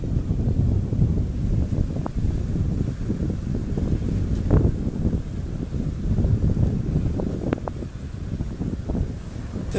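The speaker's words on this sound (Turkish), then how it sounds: "Tabii iskele biraz esiyor." Wind blows steadily across a snow-covered pier at Şarköy, giving a constant low rumble and buffeting against the microphone, with faint rustling and occasional small knocks underneath.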